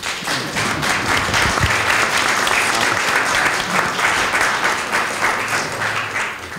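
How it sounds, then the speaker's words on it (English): Audience applause at a Democratic candidates forum, a loud, sustained roar of clapping from a packed room that holds steady for several seconds. "Can we have some applause?"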